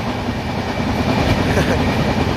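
A Mahakumbh Mela special passenger train from Jabalpur to Vijayawada runs on the rails with a steady, close, continuous rumble and wheel clatter, loud and unbroken throughout.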